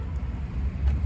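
A car idles in a Harbor Freight parking lot on a rainy day, giving a low, steady rumble with a faint pulsing throb at moderate distance.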